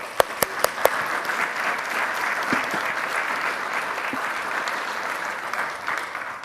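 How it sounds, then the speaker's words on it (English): A few distinct claps ring out before a room of conference delegates at a co-operative congress breaks into steady, moderately loud applause that carries on evenly to the end. "So we'll give you a clap."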